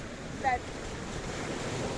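Sea waves wash onto the shore along the Paphos promenade in Kato Paphos, Cyprus, a steady broad surf rush with wind noise on the microphone and one brief higher tone near the start.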